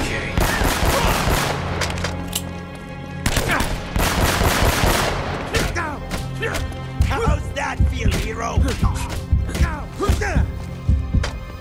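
Gunfire in the video game Uncharted: The Nathan Drake Collection, dense bursts and rapid shots, then scattered single cracks, loud and continuous, with a voice heard under the shooting.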